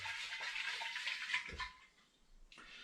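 Distilled potato alcohol swirls and splashes as it is mixed in a container, a bright watery sloshing that fades out briefly before one more swish.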